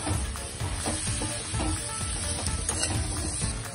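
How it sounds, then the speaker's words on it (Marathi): Beans and potatoes sautéing in fried masala for a prawn curry, a steady loud sizzle with scraping stirring throughout, close up and without voices. "आता ह्या परतलेल्या मसाल्यामध्ये शेंगा, बटाटे घालून परत एकदा परतून घेऊयात।"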